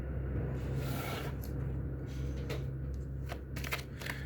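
Tarot cards shuffled by hand for an Aquarius horoscope reading give a soft, continuous papery riffle with a few brief flicks, heard close over a steady low hum.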